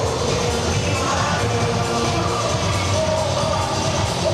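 Rugby sevens crowd at a stadium in Dubai cheering through a trophy presentation, a dense, steady roar of many voices at a distance, with no single voice standing out.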